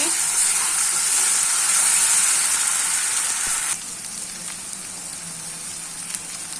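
Onion, garlic and ginger paste sizzles as it is stirred into koi fish in a hot pan, a loud steady frying hiss close by that suddenly drops to a quieter sizzle partway through.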